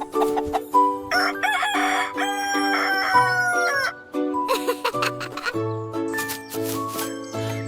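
A rooster crowing on a farm, repeated crows over other bird and animal calls, with bright tinkling sounds and musical tones alongside them.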